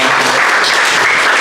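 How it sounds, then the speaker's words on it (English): A conference audience at a startup demo day applauds a presenter, a brief, steady burst of dense clapping close by, with no voices over it. "round of applause for Sam."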